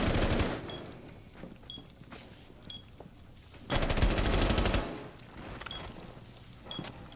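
Bursts of automatic gunfire in Rainbow Six Siege, a long rapid volley in the middle amid shorter shots and game effects, fairly quiet overall.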